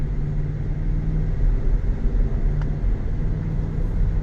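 A 2023 Chevrolet Suburban Z71 with about 35,000 miles cruises on a test drive, a steady low road rumble and engine drone heard from inside the cabin, with no talking.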